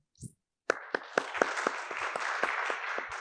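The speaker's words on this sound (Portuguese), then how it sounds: "A plateia aplaude calorosamente Afonso Cruz." Warm audience applause for Portuguese writer Afonso Cruz at a theatre talk event, a steady dense burst of many hands clapping that starts suddenly after a short pause and keeps going, close and full.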